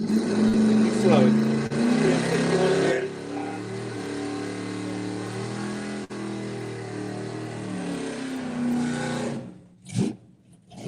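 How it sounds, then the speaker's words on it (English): A BMW car accelerates hard on a drag strip pass, its engine roaring loud and steady for around nine seconds, rising and falling through gear changes before cutting off, with people talking faintly in the background. "So, solo pass for the BMW."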